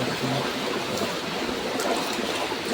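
A river flows steadily nearby in warm mountain country, a broad, continuous wash of moving water with no breaks, running alone without voices.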